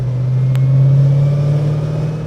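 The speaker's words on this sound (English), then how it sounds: "Car sounds way better when you can hear it with the windows open." A 1978 Aston Martin V8 Vantage flip-tail engine drones steadily from inside the cabin with the windows open, a loud, low, continuous rumble with a slight swell, no talking.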